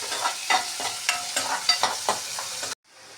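Chopped garlic and ginger stir-fry in a hot pan for a gram-flour bhurji, with a bright sizzle broken by rhythmic stirring scrapes and clatters, close and clear, before the sound cuts off abruptly.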